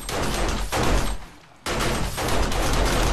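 Automated turrets fire in the survival video game 7 Days to Die, a loud dense rattle of rapid shots that stops briefly for about a second, then resumes just as hard.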